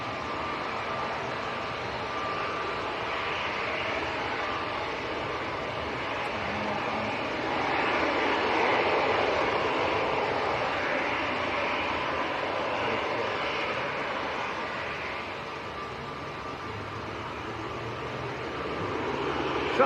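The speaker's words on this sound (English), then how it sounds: "there's a Swiss PC12 going over the field at the moment, where it's high up" A Swiss Pilatus PC-12 turboprop passes high overhead in cloud near Manchester Airport, a faint, steady distant engine drone that swells slightly midway and then fades.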